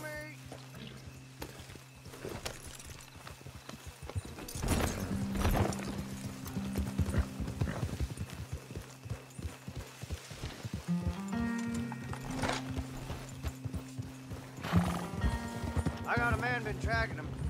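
Horses galloping in Red Dead Redemption 2, with a steady rhythmic clip-clop of hooves, occasional whinnies and snorts, and game music and voices underneath.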